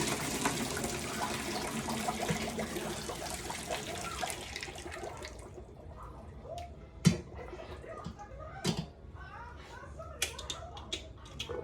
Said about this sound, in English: And then I'm just gonna get this water out here.